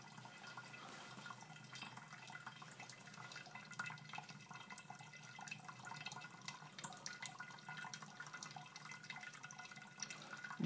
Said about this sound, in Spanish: Esperan a que el agua se transfiera de una botella a otra.